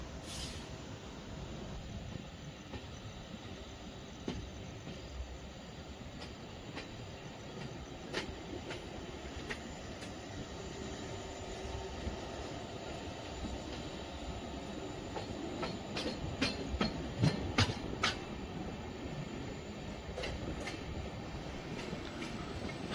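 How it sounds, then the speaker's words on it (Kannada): Overnight train pulling into Davanagere railway station, recorded from inside a general-class coach: steady rolling rumble and wheel clatter with sharper clicks and squeals building toward the end, no talking. "ನಮ್ಮ ಟ್ರೈನ್ ಈಗ ಎಂಟ್ರಿ ಆಗ್ತಿದೆ ದಾವಣಗೆರೆ ರೈಲ್ವೆ ಸ್ಟೇಷನ್ಗೆ"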